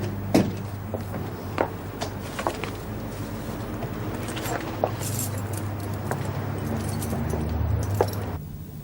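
A bunch of duplicate keys jangles and clinks in a prison office on a drama set, giving several sharp metallic bursts scattered over a steady background hum, with people talking throughout.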